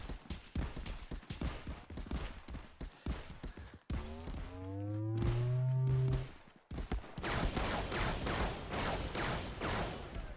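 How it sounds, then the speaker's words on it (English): Rapid gunfire bursts crackle through a VR shooter game, clusters of sharp shots around a brief whooshing, tonal sweep in the middle, then dense firing again, loud and close. "What are you guys shooting at?"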